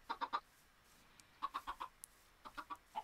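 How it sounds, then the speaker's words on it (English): Chickens in a glitchy chicken farm within a Minecraft-style survival game give off short bursts of three to four quick clucks, repeated in separate clusters, fairly faint with no voices. "There's my glitchy chicken farm."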